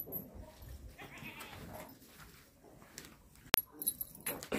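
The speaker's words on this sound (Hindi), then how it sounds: "तो बकरियां भी साथ में आ गई हैं" Goats kept alongside larger livestock on a farm bleat faintly amid shuffling and low background noise, with one sharp metallic clank near the end.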